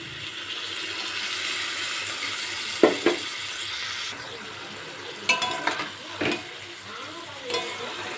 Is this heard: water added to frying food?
yes